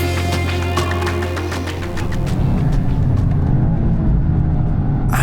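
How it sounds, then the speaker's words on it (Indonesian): A Toyota GR Yaris with a turbocharged engine revs through a matched downshift, with close, loud engine rumble, a burst of higher revving partway through and steady mechanical drone. "selalu suka deh dengar suara turun gigi dan rev matching di mobil ini"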